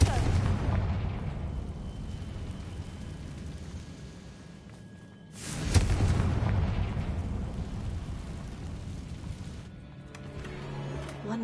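Confringo fire spells in the video game Hogwarts Legacy set off loud, booming explosions, with a heavy rumbling blast partway through that rolls on and slowly fades, then another burst building toward the end.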